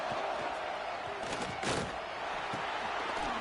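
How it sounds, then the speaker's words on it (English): Stadium crowd noise in a college football video game, a dense continuous roar of a large crowd with occasional swells and thuds, no clear voices standing out. "Wow, listen to this crowd noise. This stadium is vibrating."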